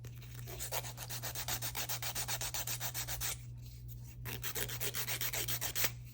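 Acrylic nails being filed by hand with the 180-grit side of a nail file: steady rhythmic back-and-forth rasping strokes, close and distinct, with a brief pause midway before the strokes resume, over a constant low hum.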